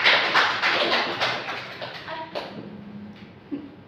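Classroom of students applauding during a micro-teaching lesson, a burst of hand clapping that fades over a few seconds and gives way to quieter room noise.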